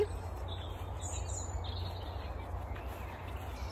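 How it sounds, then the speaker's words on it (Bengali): Birds chirp faintly and intermittently in a large open park field, thin high calls drifting over steady low background noise, with no one speaking. "পাখির কিচিরমিচির শব্দ শুনতে শুনতে"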